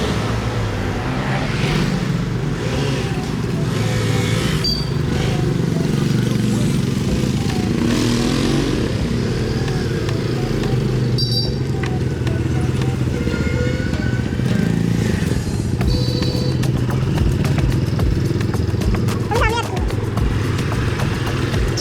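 Motorcycles setting off on a group ride from a hotel in Siliguri, engines droning steadily and loudly throughout with traffic noise and occasional horn-like tones, a voice talking over them.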